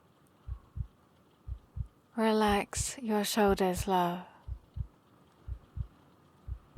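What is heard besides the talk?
heartbeat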